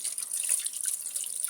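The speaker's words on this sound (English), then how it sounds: "So this is the pan we're looking at. I'm going to be washing it off." Running water from a tap splashes steadily over a Mazda Skyactiv transmission oil pan being washed off, a close, continuous hiss with no pause.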